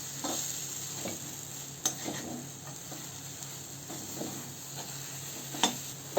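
Gram flour bhurji is stirred and sautéed in a pan after steaming under a lid. A faint, low sizzle runs beneath soft, irregular scraping and tapping from a spatula, with a couple of sharper clicks.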